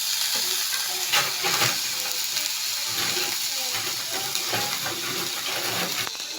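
Tomatoes sauté in a pan with a steady sizzle and frying hiss, broken by repeated scraping stirs and occasional utensil taps close by.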